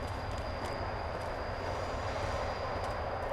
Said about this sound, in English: Must be the tram.